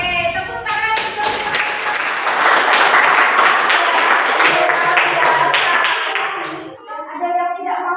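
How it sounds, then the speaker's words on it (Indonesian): Applause from a classroom of students during a morning mathematics lesson, a dense wash of many hands clapping steadily for about seven seconds before thinning out, with a few scattered claps and murmurs at the end. "Oke, tepuk tangan untuk"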